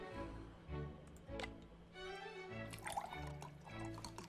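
Wine trickles and drips as it is poured into a cup in the card-cheating game Card Shark, a quiet, close series of small liquid splashes and ticks spread unevenly over several seconds.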